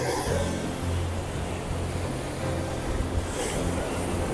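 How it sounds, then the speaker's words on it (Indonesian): Sea waves roll and wash steadily as a fishing boat heads out past the surf off Pacitan, with a low engine hum beneath the continuous rushing water and no one speaking. "ketika kapal nelayan ketika ingin pergi ke laut lepas, maka hal pertama dia harus bisa mengalahkan ombak"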